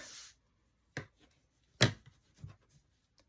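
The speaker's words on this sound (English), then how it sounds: "I am going to just put marks for cutting" A pen marks cutting lines on paper for a craft journal cover, making a few short, quiet, separate taps and scratches close by in near silence, with no talking.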